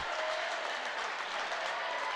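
Crowd in a gym applauding at a boys' basketball game, a dense, steady wash of clapping that holds at an even level for the whole stretch, with no voices standing out.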